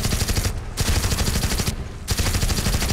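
Rapid automatic gunfire from the video game Dead Alliance, loud continuous bursts split by two brief pauses, close and dense, with no speech.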